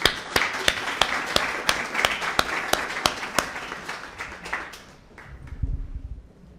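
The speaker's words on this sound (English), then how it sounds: "A big round of applause for all of you." Sharp, steady clapping from a sizable conference audience in Amman, Jordan, loud and continuous, thinning out and fading toward the end with a low rumble.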